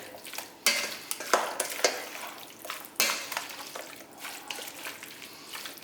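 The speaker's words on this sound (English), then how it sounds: "Quick mix and this is done." A spoon mixes potato tuna mayo salad in a bowl with quick, repeated scraping and clacking strokes, close and fairly loud, with no voices.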